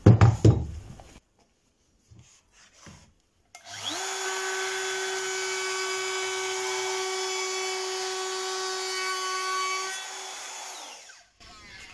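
A milling machine cutter fitted with a bearing makes a first pass, starting with a few knocks before a loud, steady whine with a sustained tonal hum runs for about seven seconds and then stops.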